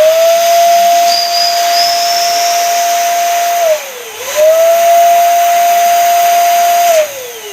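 An electric pump inflating red heart-print balloons gives a loud, steady high hum with a hissing airflow, dipping briefly as it pauses before running again and cutting off near the end.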